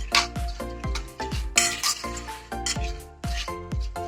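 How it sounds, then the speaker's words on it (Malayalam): A spoon mixes lentils with salt in a metal pot or vessel, producing repeated close clinks and ringing scrapes of metal on metal in an uneven stirring rhythm. "ഇതിനെ നന്നായിട്ടൊന്ന് മിക്സ് ചെയ്ത്"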